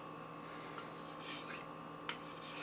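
Steel scrapes across a sharpening stone in freehand knife sharpening, a faint, quiet rasping with a few soft strokes and a brief sharper scrape near the end over low background hum.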